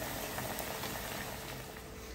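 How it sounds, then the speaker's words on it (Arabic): Churros fry in oil with a steady, close bubbling sizzle that holds level throughout the clip and has no voices over it. "نعم حنا راه بدينا كنقليو"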